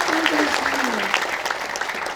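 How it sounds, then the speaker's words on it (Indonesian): An audience at a village Maulid Nabi religious gathering in Cirebon breaks into steady applause, a dense wash of clapping with a voice sounding over it. "tepuk tangan sing banter, gak usah sungkan-sungkan"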